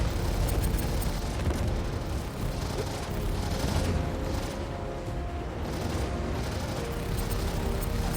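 Railgun fire in a video game, heard as a dense, continuous barrage of loud blasts and explosive rumble that fills the whole stretch without a break.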